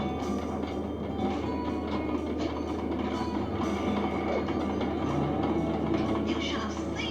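A train in the video game Sly 2: Band of Thieves rumbles along steadily with a continuous rolling clatter, held at an even, moderate level for the whole stretch.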